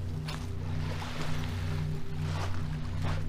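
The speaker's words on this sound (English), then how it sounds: "I can hear boats in the distance." Boats out on Georgian Bay near a shipwreck dive site, a distant low engine drone blending with lapping water and soft wave wash along the shore.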